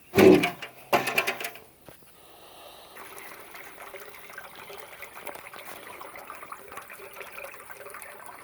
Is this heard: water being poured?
yes